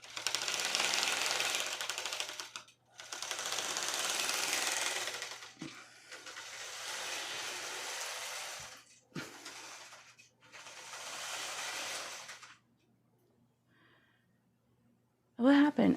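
A longarm quilting machine stitching a quilt: several bursts of steady, fast mechanical whirring separated by short pauses, then the machine falls quiet, ending with a brief knock.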